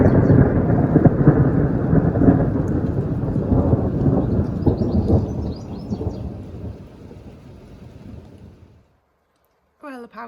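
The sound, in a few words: thunderstorm with thunder and heavy rain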